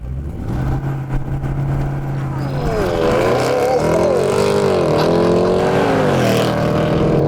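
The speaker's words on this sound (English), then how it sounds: "flatten the throttle, and away you go" A 2021 Jaguar F-Pace SVR idles, then roars as it launches hard at full throttle, revs climbing through several gear shifts in a loud, sustained run.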